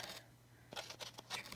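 Ribbon scissors trim in a quiet room, giving several short crisp snips in quick succession with one brief snip at the start.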